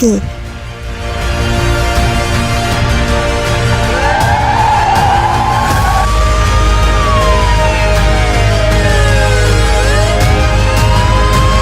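A loud police siren wails continuously, its pitch sweeping up and down in long rising and falling glides over a dense, steady rumble of background noise, close and dominant throughout.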